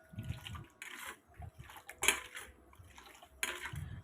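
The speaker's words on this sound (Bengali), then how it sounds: "চিনিটা যতক্ষণ না গুলে যাচ্ছে ততক্ষণ এইভাবে রসটাকে নাড়তে থাকবো" Lychee juice being stirred with a spoon to dissolve sugar, intermittent swishing and light clinks against the vessel in short bursts, close and fairly quiet.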